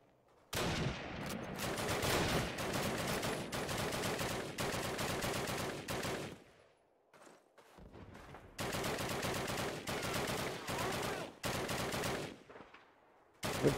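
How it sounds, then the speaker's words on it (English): Loud bursts of automatic gunfire from a Call of Duty match, with sustained rattling volleys broken by a short lull before another heavy burst of rapid shots. "What the hell are you guys shooting at?"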